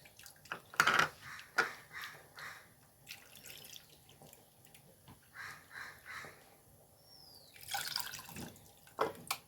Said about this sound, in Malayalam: കുറച്ച് ഉപ്പിട്ട് കൊടുത്തു ഇനി പുളിയാണ് ഒഴിച്ച് കൊടുക്കുന്നത്